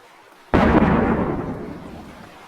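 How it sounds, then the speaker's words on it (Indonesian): A sudden, powerful explosion of the SS Mont Blanc ship disaster booms and then rumbles on, its deep roar slowly decaying over a couple of seconds. "api yang semakin membesar akhirnya memicu ledakan yang sangat dahsyat"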